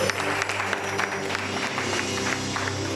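A church congregation applauds during a worship service to acclaim the Lord, steady clapping and crowd noise sustained throughout at moderate distance with no break.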